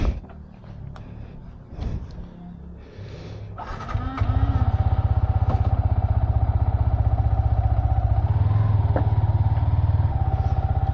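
A Yamaha R15 motorcycle starts a monsoon ride. Low rumble and clatter lead up to the engine settling into a loud, steady, close throbbing note, with a slight rise in revs as it pulls away.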